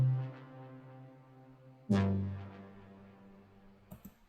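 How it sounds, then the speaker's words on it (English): A big pre-chorus synth swells in two long, loud sustained chords, the second struck harder and decaying slowly, followed by a couple of short hits at the end, with no voices. "the big synth part, and it sounds like this"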